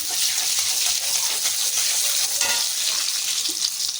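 Mustard and fenugreek seeds sizzle and crackle in hot oil as they are stirred in a pan, a continuous close frying hiss with light scraping.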